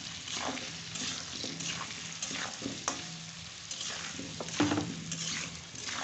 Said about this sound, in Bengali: সব মশলাগুলো দিয়ে ওলটা ভালোভাবে কষে নেব